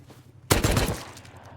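A turret fires a short burst of gunfire at enemies in the survival game The Theseus, a loud sharp volley of rapid shots over a low steady hum.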